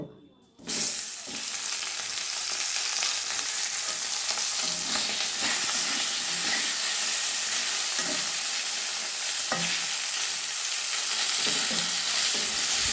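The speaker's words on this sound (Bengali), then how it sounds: "এবার ইলিশ মাছের মাথা দুটো ভেজে নেব" Two hilsa fish heads drop into hot oil and set off a loud, continuous sizzle with crackling spatter that holds steady throughout, with no voices.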